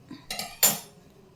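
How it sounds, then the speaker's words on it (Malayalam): A utensil scrapes and clinks against a pan as a soft steamed vattayappam rice cake is loosened and moved onto a plate, giving a few short metallic knocks, the last one loudest. "ഇത് നമുക്ക് ഇളക്കി ഒരു പ്ലേറ്റിലേക്ക് വെക്കാം"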